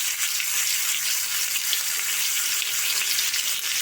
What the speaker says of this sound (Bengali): আদা রসুনটা তেলে নাড়াচাড়া করে নেব